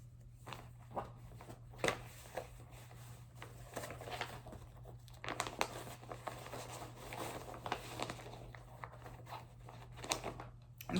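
Cross-stitch project bags being handled close up, with soft crinkling rustles and scattered taps and shuffles over a low steady hum, quiet and irregular.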